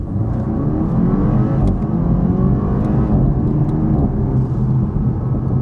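A Toyota Supra 2.0 turbo with an 8-speed gearbox accelerates hard, its engine note climbing in a loud, close, sustained drone with a rising whir and low rumble, no voices over it.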